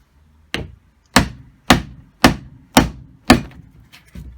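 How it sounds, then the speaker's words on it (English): A soft-faced leather hammer strikes a centrifugal clutch part six times to drive out a bearing, each blow a sharp, close knock with a short ringing decay, spaced evenly about half a second apart. "I've started just by whopping it with a hammer."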